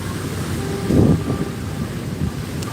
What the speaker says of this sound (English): now it's raining, so we gotta wait a little bit for the rain to slow down